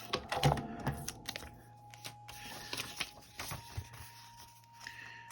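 Acetate sheet being cut for junk journal tags, heard as faint, quick crisp snips and small clicks in an irregular rhythm over a low steady hum, with no talking.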